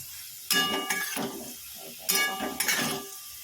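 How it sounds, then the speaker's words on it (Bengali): Potatoes with poppy seeds being stirred in a pan: two bursts of scraping and clinking against metal, with a quiet pause between and faint sizzling underneath. "এখন একটু পোস্তটা দিয়ে একটু নাড়াচাড়া করে আমি এটা নামিয়ে দেবো"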